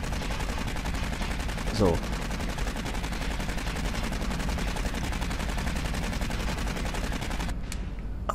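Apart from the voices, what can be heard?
gunfire in video game Aliens: Colonial Marines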